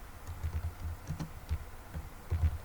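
Typing on a computer keyboard, a quiet patter of soft key clicks in uneven bursts, close by and alone with no talk.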